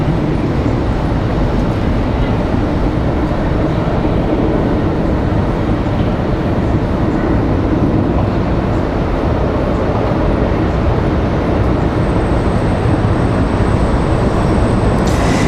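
Air France Boeing 777 jet departing Washington Dulles, a steady broadband engine roar heard from a distance at constant level with no speech.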